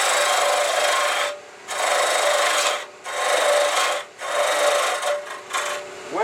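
A bowl gouge with a deep-fluted Ellsworth grind cuts into spinning wood on a lathe, giving a loud, steady rasping hiss in long bursts broken by short pauses, with no talking.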